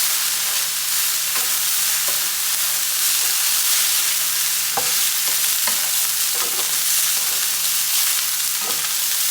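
Fried rice being stir-fried with sauces in a hot pan, giving a loud continuous sizzle with repeated scraping and tossing clicks from the spatula.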